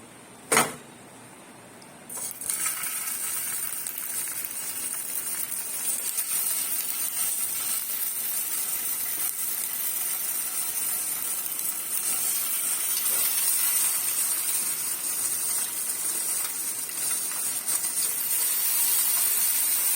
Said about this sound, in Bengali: আমি এবার এক এক করে সসেজ গুলো আমি এর মধ্যে দিয়ে দিচ্ছি